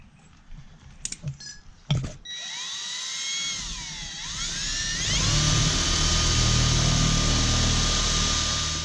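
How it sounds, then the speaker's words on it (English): Power drill boring out a hole to fit a propane hose during a camper van tank install, a whining motor with shifting pitch that builds into a loud, steady grinding cut after a few short clicks and handling knocks. "So now I got to cut that hole to the right size for the hose."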